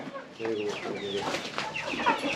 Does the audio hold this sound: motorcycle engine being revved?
no